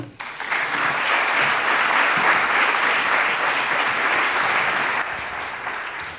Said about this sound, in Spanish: un fuerte aplauso para Urtzi.